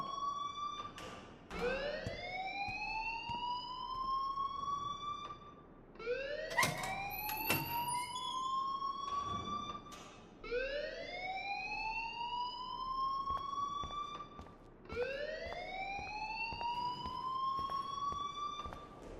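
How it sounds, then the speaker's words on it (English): A school alarm in the video game Life Is Strange wails in repeated rising sweeps, each climbing then holding steady before cutting off and restarting, four cycles in a row, loud and continuous with no talking over it. "please turn off that alarm since that's your job"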